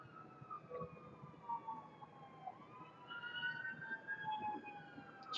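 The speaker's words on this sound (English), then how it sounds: "Why the sirens?" Emergency vehicle sirens wail in long rising and falling tones, distant and fairly faint, with a low background hum and no talking.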